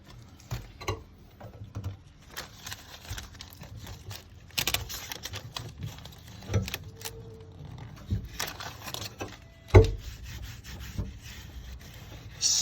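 Self-adhesive van liner foam tape peeled from its backing and pressed onto a van's interior panel, giving soft close rubbing and scratchy peeling noises with a few sharper clicks, heard alone without talk.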